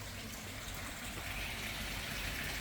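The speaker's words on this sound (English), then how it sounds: "Listen to the water feature." Garden water feature running continuously at a Bali-style waterfront home, a steady close-up splash and gush of falling water with no break and no talk.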